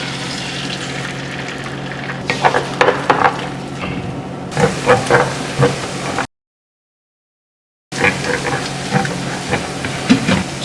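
Eggs dropped into heated oil in a pot, a constant hissing sizzle with scattered sharper crackles and pops, close and fairly loud, with a short gap partway through.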